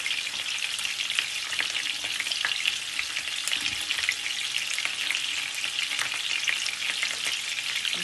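Thin saltimbocca frying in a frying pan gives a steady, bright sizzle with scattered crackles and pops, moderately quiet and continuous.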